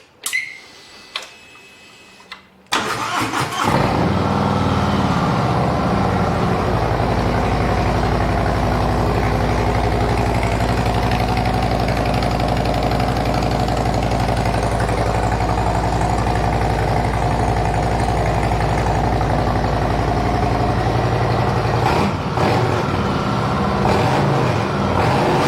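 A Harley-Davidson engine fitted with Tab Performance slip-on exhaust cold-starts after a few seconds of quiet handling noises, then settles into a loud, deep, steady idle close by that runs to the end.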